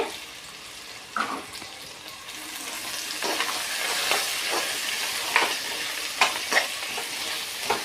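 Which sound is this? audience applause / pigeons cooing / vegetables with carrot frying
vegetables with carrot frying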